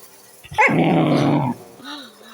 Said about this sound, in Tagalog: Si Choros ang umuungol yan eh.